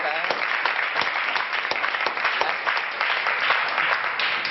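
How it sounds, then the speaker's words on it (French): An audience applauds continuously at an event, dense steady clapping at even loudness throughout. "Oui, on applaudit même."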